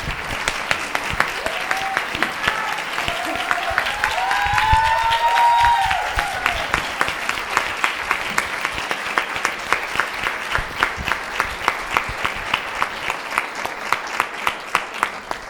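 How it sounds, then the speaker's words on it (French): Audience applause after a speech at an event about meals in a nursing home, sustained rhythmic clapping that swells in the middle and settles into steady unison beats, with voices cheering briefly underneath. "On peut l'applaudir très fort."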